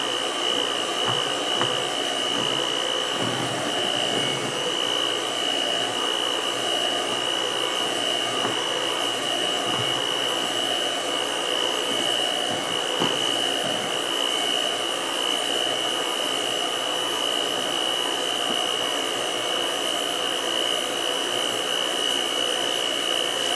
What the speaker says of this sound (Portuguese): Eu vou continuar mexendo com a batedeira